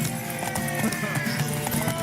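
Galloping horse in a Witcher 3 video game horse race, rapid rhythmic hoofbeats thudding steadily with background game sound, moderately loud and continuous.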